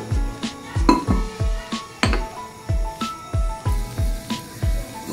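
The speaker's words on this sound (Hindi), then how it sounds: "अब 1 मिनट में हम इसको जरा चम्मच के साथ मिक्स करते हैं" Spoon stirring chicken handi in a metal pot, a steady series of about a dozen clinking scrapes in an even rhythm, close and fairly loud, with a faint hiss of cooking beneath.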